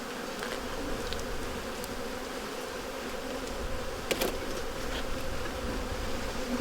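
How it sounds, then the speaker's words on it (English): Honeybees shaken off a hive frame during a colony examination fill the air with a dense, continuous buzzing hum, close and steady, with a brief sharper knock partway through. "Sometimes the bees on a frame make it difficult to see what's going on, so I shall shake them off."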